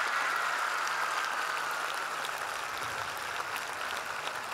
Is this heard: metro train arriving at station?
no